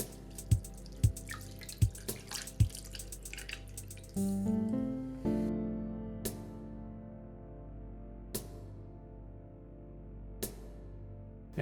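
Dry spaghetti goes into a shallow pan of well-salted water: a quick run of sharp clicks and taps, then a brief ringing resonance from the pan, followed by sparse isolated ticks in a quiet kitchen with no talking.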